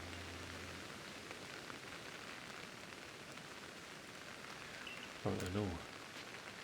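Rainfall in the Pokémon Legends: Arceus video game, a faint, steady hiss of drops on the ground throughout, with a low hum at the start and a short spoken remark near the end.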